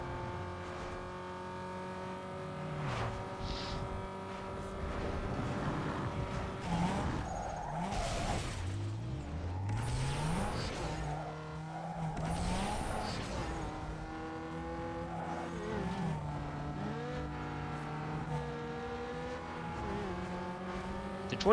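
BMW M3 GTR race car in Need for Speed Underground 2, engine revving and shifting through gears with repeated tire squeals and skids, loud and continuous with game music underneath.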